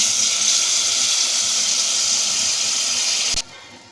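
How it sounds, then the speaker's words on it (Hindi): Steady hissing splash of about half a cup of water pouring into a pot of spiced fish curry, continuous for a few seconds before cutting off abruptly. "ये मैंने हाफ कप के जितना इसमें पानी डाला है।"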